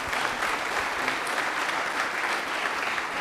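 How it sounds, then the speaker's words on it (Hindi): Loud, dense applause from a studio audience at a Rajasthani general-knowledge quiz show, rewarding a correct answer; steady clapping fills the whole stretch without voices. "तालियां एक बार जोरदार होनी चाहिए।"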